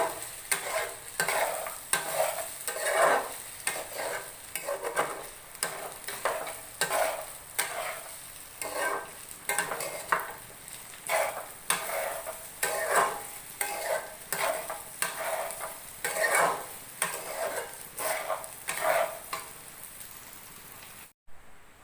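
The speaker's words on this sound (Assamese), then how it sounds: "এতিয়া এইখিনি অলপ ৰঙচুৱা হোৱালৈ ভাজি থাকিব লাগিব" Whole spices (garam masala, cloves, cardamom), raisins, cashews and bay leaf frying in a pan for chicken pulao, with a soft steady sizzle and regular rhythmic scrapes of stirring throughout, no talk.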